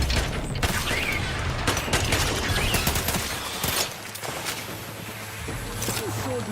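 Rapid bursts of gunfire from The Outer Worlds 2 video game crackle densely and loudly over constant in-game background noise, with sharp repeated shots piling together throughout.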